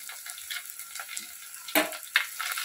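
Ginger garlic paste sautéing with onions in a pan, a quiet continuous sizzle broken by a couple of sharper scrapes and stirring clatters of the spoon against the pan.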